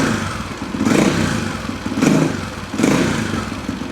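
Husaberg dirt bike engine idling roughly after a mixture screw adjustment, with three throttle blips swelling and falling, loud and close with no talk.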